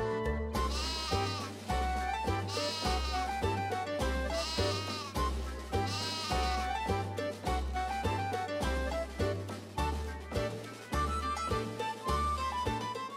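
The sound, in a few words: sheep bleating in video game Final Fantasy 3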